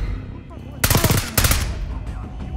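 Two heavy bursts of automatic gunfire from Call of Duty Black Ops 6, loud and close, each lasting about half a second, set against a rumbling battlefield background.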